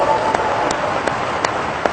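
An audience at a live talk applauding: a steady wash of many hands clapping, loud and close, with a faint rhythmic pulse of accented claps and a voice mixed in.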